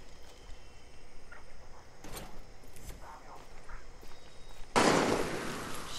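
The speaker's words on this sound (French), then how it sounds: "Shit, who's shooting?" Gunfire in the video game Far Cry 6: scattered faint pops and bursts at a distance, then a louder, harsher blast of noise near the end.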